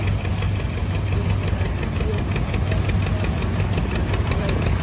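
An antique tractor engine at a power parade runs steadily with a low, knocking chug, loud and close, with no pauses across the stretch.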